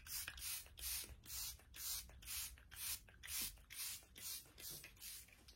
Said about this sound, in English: So I'm just going to spray it all over my skin.